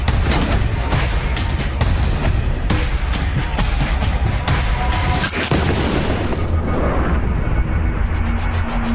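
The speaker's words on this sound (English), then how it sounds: "he sets his guns up in strategic position to begin bombarding the Alamo" Cannon bombardment of the Alamo fortress during the siege, with heavy booming artillery fire rolling continuously under a dense, rumbling roar, loud and sustained with repeated deep blasts and no talk.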